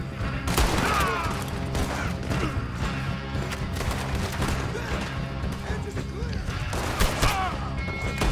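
Gunfire in the Western video game Red Dead Redemption 2 during a camp shootout, a dense ongoing fusillade of shots and crashes over the game's score, with a few sharper bursts near the start and end.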